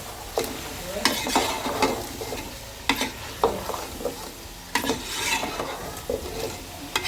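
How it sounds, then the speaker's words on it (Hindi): Potatoes tossed in a pot with crushed red chilli and cumin, frying with a continuous sizzle under repeated scraping stirs and occasional clinks of a spoon against the metal, close and fairly loud, with no talking. "इसके अंदर डालेंगे आलू, थोड़ी सी इसकी भुनाई करेंगे।"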